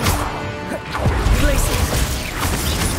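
Confringo and Expelliarmus spells cast during free-roam combat in Hogwarts Legacy, a busy run of magical crashes, whacks and swooshing impacts, loud and layered throughout with no clear pause.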